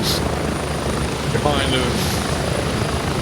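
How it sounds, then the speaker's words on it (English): A helicopter in the Gray Zone Warfare video game drones with a loud, steady rotor and engine hum, while someone talks briefly over it. "You get to places by helicopters."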